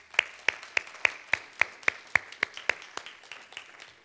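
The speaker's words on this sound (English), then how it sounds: "Can we give the fathers a clap?" A handful of people clap in a slow, steady rhythm, about a dozen sharp claps spaced evenly and fading toward the end, with no voices.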